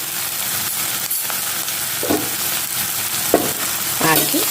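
Ginger garlic paste frying in a pan for an egg pepper fry, with a steady broadband sizzle throughout and a few brief clinks of a spoon stirring against the pan.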